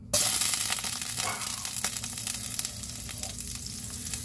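A teaspoon of butter hits a hot pan with olive oil and bursts into a loud sizzle that then settles into a steady hiss with crackling, close and with no one talking.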